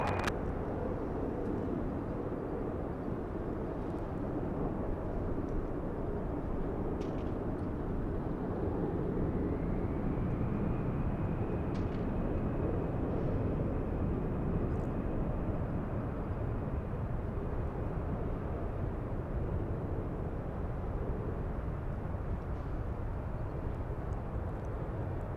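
An airliner takes off from runway 24 left at Los Angeles International Airport, a broad, steady engine roar held at a distance for the whole span, with a thin rising whine partway through and no voices.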